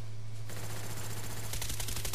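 Rapid automatic gunfire from the video game Black Ops, a quiet run of fast repeated shots that grows denser and louder toward the end.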